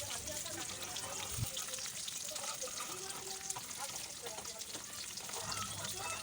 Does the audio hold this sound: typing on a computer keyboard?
no